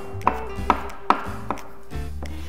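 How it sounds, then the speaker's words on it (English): A knife's dull side scrapes chopped charred peaches and salsa ingredients across a wooden cutting board into a bowl, giving four or five crisp, evenly spaced knocks and scrapes up close, followed by a softer drawn-out scrape. "I'm scraping with the dull side of my knife into the bowl"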